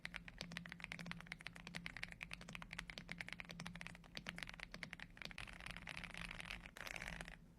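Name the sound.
typing on AULA F75 keyboard with ice vein switches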